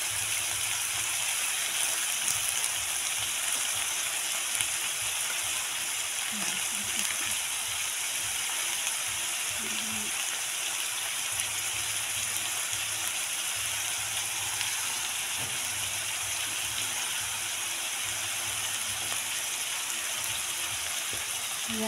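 Chopsuey vegetables frying in a pan while being stirred, a steady close hiss of sizzling with occasional soft utensil scrapes, running continuously throughout.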